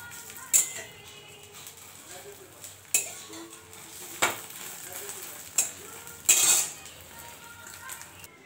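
A utensil mixes spices with ginger, onion and a little water in a pan, tapping and clinking against the metal about every second and a half over a faint background, close by.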